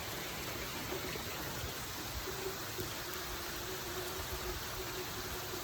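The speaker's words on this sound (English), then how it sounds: "It is raining." Steady rain hisses evenly throughout, a dense broadband wash with a faint low hum beneath and no voices.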